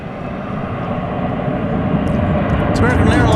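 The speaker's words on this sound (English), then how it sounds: "It's American Airlines Flight 2402. It's going to Seattle. It's an Airbus A321." An American Airlines Airbus A321 jet airliner at Dallas Fort Worth airport at night makes a steady broadband jet roar that gradually builds louder, with a voice speaking faintly underneath toward the end.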